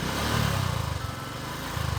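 A motorcycle engine running rough after carbon cleaner is poured into the combustion chamber, idling with an uneven, sputtering low throb that pulses irregularly at close range, loud and continuous without speech.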